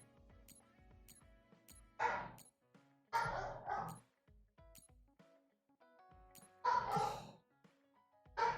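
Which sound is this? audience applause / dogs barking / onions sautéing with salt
dogs barking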